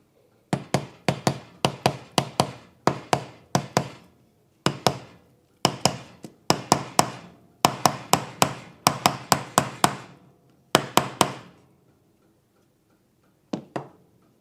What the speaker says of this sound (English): I'm actually going to use a hammer and tap it in